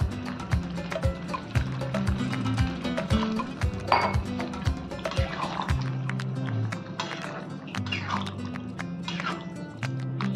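Water is poured into a pan of Hyderabadi paneer over a high gas flame, splashing and trickling between sharp clinks and knocks of cookware close by.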